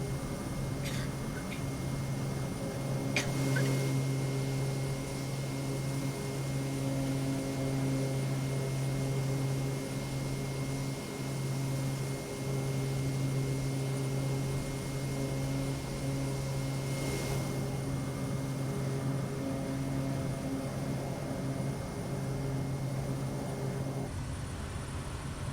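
Steady drone of a Kodiak 100 single-engine turboprop in level flight over Papua New Guinea bush country, a loud continuous hum with strong tonal layers heard from inside the cabin, unbroken for the whole stretch before dropping away near the end.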